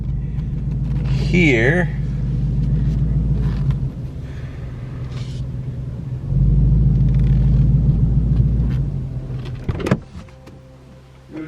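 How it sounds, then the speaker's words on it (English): On a cold start, a starter whines briefly, then a car engine catches and settles into a deep, steady rumble, surging once more before a brief word is spoken. "Cold start time."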